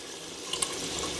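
Tap water runs steadily while beef liver is rinsed at a kitchen sink, a close, continuous hiss with a couple of faint splashes near the middle.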